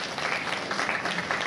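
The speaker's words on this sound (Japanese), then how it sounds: "みんな二人に大きな拍手を送ってくれ。" Audience at the Turtle Talk show at Tokyo DisneySea applauding: a brief burst of dense, even clapping from a crowd.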